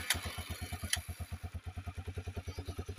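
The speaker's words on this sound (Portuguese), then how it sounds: "Olha, ligou a moto." A motorcycle engine catches after the starter is worked, then settles into a steady, rhythmic low idle thump, close by and moderately loud, with a couple of sharp clicks at the start.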